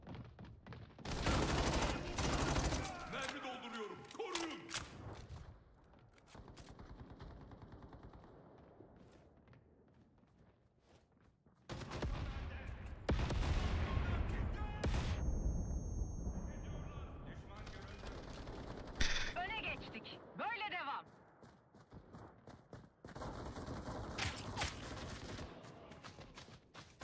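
Gunfire bursts in the video game Battle Teams 2, loud rapid volleys and thuds in dense clusters across the clip, with short quieter gaps between exchanges and players talking over the action.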